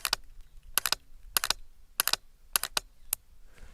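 A Mantis Blackbeard training pistol's trigger gives sharp, crisp clicks, mostly in quick pairs or triplets, repeated about six times at a steady pace in a quiet setting.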